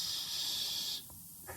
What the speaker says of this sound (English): A fizzing away like a good one.